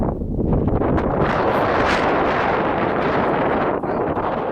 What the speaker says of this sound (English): Excuse the wind, it's extremely windy here.